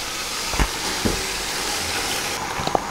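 Beef paya pieces drop into hot masala gravy in a cooking pot, producing a steady sizzling hiss with a few soft thuds and clinks as the pieces go in.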